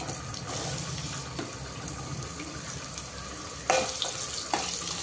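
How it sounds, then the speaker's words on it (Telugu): Carrots fry in oil with cumin, mustard seeds and curry leaves, giving a steady close sizzle and crackle broken by occasional stirring scrapes and a sudden louder burst near the end. "వేసేస్తే మంచిగా కొంచెం వేయించుకుందాం క్యారెట్ని"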